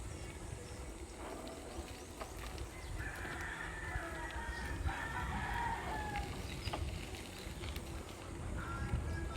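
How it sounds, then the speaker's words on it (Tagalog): Roosters crow and chickens cluck at a chicken farm beside a hill road in Tanay, with several drawn-out crows rising over a busy, constant background of fowl calls. "Yun ang manukan, no?"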